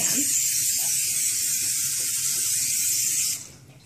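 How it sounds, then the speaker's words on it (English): A steady aerosol spray hisses continuously for over three seconds, close and fairly loud, then cuts off abruptly. "I'm going to take a little bit of cooking spray. I'm going to spray my oven safe"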